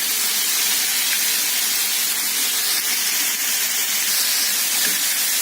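Liver slices frying in hot oil for Edirne-style fried liver make a loud, steady sizzling hiss that runs unbroken throughout with no voices.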